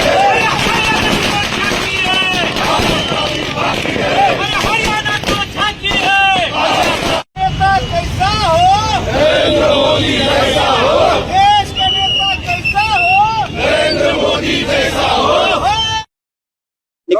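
BJP supporters in Dharashiv celebrate their Haryana assembly election win with loud, continuous crowd cheering, whoops and shouted chants. The noise drops out briefly once and ends in sudden silence.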